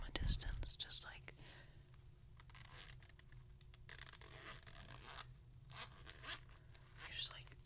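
Soft zipper pulls on a bag open in quick strokes at the start, followed by quiet scraping and rustling, all faint and close, with whispering throughout.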